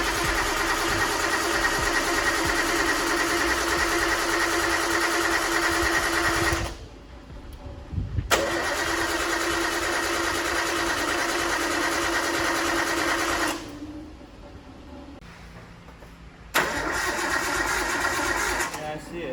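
A Nissan GT-R engine cranks and fires, running loudly with a steady high-pitched whine, cutting out twice and restarting, close to the microphone.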